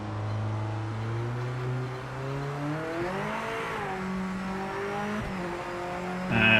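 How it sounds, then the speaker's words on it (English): Race car in the PC racing game PMR with warm brakes, engine drone shifting pitch under a continuous high brake squeal that never lets up, steady and close with no talking. "in iRacing you stop hearing the squeal, whereas in this game it never stops"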